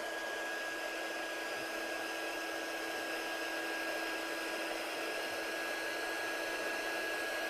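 A heat gun blows a steady, loud, unbroken whoosh with a faint high whine throughout, heat embossing a handmade card, with no talking.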